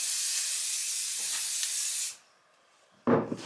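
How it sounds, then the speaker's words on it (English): Superdrug hairspray is sprayed onto hair in one long continuous hiss lasting about two seconds, close and loud, then stops, followed by a brief rustle. "I'm gonna just put a bit of hairspray in. I'm gonna use just the Superdrug hairspray."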